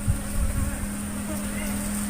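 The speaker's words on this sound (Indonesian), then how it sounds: "dan lebahnya tidak terlalu agresif." Asian honey bees (Apis cerana) hum steadily at a hive on a bee farm, a close, continuous buzzing drone with some handling noise at the start.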